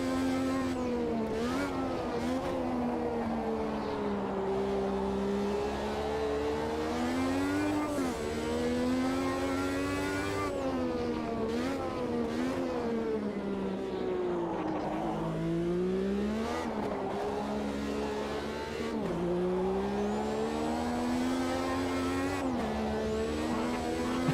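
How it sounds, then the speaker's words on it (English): Kronos race car in the Automobilista 2 racing game, its engine revving hard and continuously with rising and falling pitch sweeps through gear changes, loud and unbroken throughout. "What an insane car this Kronos here it is."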